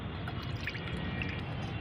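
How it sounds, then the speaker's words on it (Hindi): Homemade liquid garden fertilizer being strained, a steady soft liquid pouring and dripping sound with faint wet squishing, close and continuous throughout. "इसको आपको पहले अच्छी तरह से छान लेना है।"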